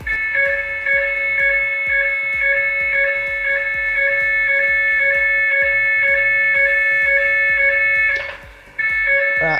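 A home fire alarm system sounds its recorded alarm, with a loud, steady high-pitched tone and a rapid pulsing beat running throughout, then a short dip near the end as the recording finishes.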